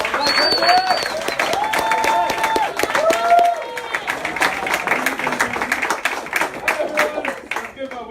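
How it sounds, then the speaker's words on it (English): Steady applause from an audience, dense clapping with a few cheers, while a voice speaks over it for several seconds. "Another round of applause."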